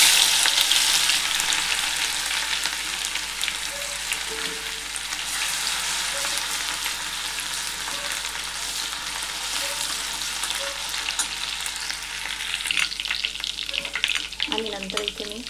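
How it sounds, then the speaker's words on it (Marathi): Ginger-garlic paste sizzles in hot oil in a pan already crackling with mustard seeds, a steady close frying hiss with occasional stirring scrapes and pops, alone with no speech. "आता आपण आधी आलं लसूण पेस्ट टाकून घेऊया थोडी"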